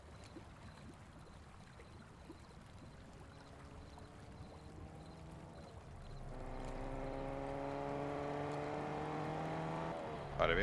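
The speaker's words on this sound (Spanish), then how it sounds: "Vale, viene alguien en coche." A vehicle in the Fortnite video game approaches, its engine whine climbing in pitch and growing louder and nearer over several seconds before peaking at the end.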